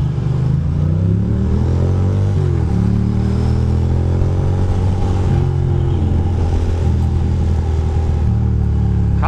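Motorcycle ridden through New York City streets in Queens just after a huge snowstorm, its engine droning loud and close throughout with rising and falling revs and mechanical clatter.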